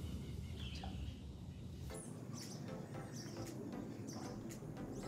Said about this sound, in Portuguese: Tá ouvindo os passarinhos?